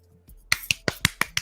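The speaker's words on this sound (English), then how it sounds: "let me hear you just give an applause" Six sharp hand claps in a steady rhythm, close and crisp, after a brief quiet start with no talking.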